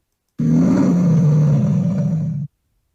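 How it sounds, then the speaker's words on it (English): A lion's roar played as a sound effect: one sustained, loud, deep growling roar lasting about two seconds, with a rough low rumble that cuts off abruptly into silence. "A lion made that sound."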